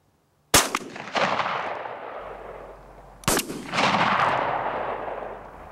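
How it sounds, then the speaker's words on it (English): Two loud shotgun blasts from a gun with an improved cylinder choke tube, fired at an outdoor pattern range about three seconds apart, each a sharp crack trailing into a long rolling echo. "We're gonna add 10 more yards at our final distance and shoot both choke tubes at 40."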